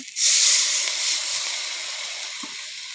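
Water poured into a hot pan of ginger, garlic, cardamom, cinnamon and bay leaves for cooking beef tripe bursts into a loud, steady sizzling hiss that starts abruptly and slowly eases off.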